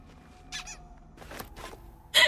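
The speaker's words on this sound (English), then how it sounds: "I love that noise when you pick up the balls." Balls being picked up in Baldur's Gate 3 make brief, high squeaky chirps that come in several short separate bursts, the last the loudest, with no talking.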